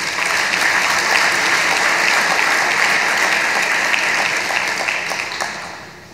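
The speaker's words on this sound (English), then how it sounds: "Let's give it a round of applause for the sponsors." An audience at a city's 2023 State of the City event gives the sponsors a round of applause, a loud, continuous rush of many hands clapping that holds steady for several seconds before tapering slightly at the end.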